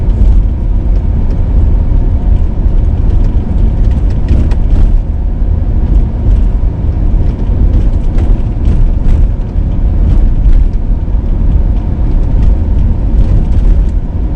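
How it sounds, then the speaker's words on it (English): A Corvette's engine gives a deep, loud low rumble, heard from inside the car, holding steady with slight swells but no sharp revs. "Give them a little rev."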